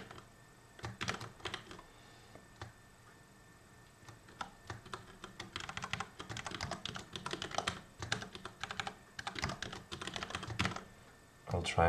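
Computer keyboard typing while coding, bursts of quiet close clicks with irregular rhythm and pauses between runs.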